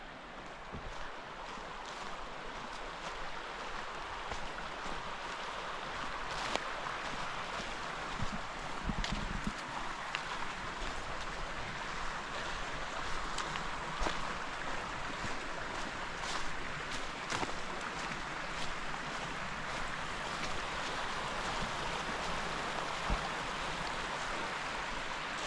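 Creek flowing through a wooded valley in Pisgah National Forest, a continuous broadband rush of water that stays steady throughout, with occasional faint clicks and knocks nearby.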